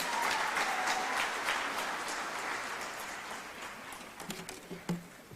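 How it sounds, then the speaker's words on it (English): Applause from the audience at a First Ladies Dialogue session of the UN Habitat Assembly, a soft, steady patter of many hands that thins out toward the end, heard faint and distant with no talk over it. "One more round of applause for Honorable Filda Kereng, Minister for Env"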